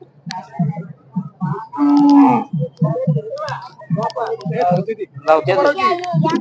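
A Khillar bull's deep, drawn-out low rises once in the middle at a cattle show in Ghataprabha, Karnataka, with speech running around it and beneath it.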